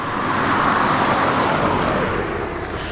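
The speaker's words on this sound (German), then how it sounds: "Aber mir nix, dir nix, rettet hier einfach ein Auto entlang." A car sweeps by on a quiet country road near the Pfänder in Austria. The steady tire and engine roar swells close and loud, then slowly eases off as it passes, with no talk.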